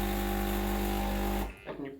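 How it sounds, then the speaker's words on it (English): A Breville Dual Boiler BES920 espresso machine pump hums steadily with a buzzing drone for about a second and a half while running a blank shot, then cuts off abruptly. "So here I'm running a blank shot just to rinse the shower screen and the portafilter."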